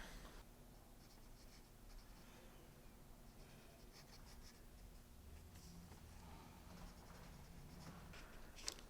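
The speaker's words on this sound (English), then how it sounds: "Do you mind writing that down under the question?" Pen writing on paper during a classroom pre-writing activity, a continuous scratchy stroking that runs steadily through the whole stretch, close and moderately quiet, with no talk and a single small tap near the end.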